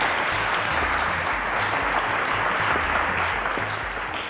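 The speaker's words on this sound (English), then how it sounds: "A round of applause to Efosa." A quiz show studio audience applauds a contestant, a steady, even wash of clapping that holds strong for the whole stretch and eases slightly at the end.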